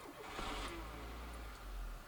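A Renault Megane Classic engine starting, a faint low rumble that catches and settles smoothly into a steady idle, heard quietly from nearby.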